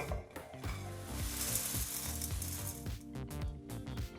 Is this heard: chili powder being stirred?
yes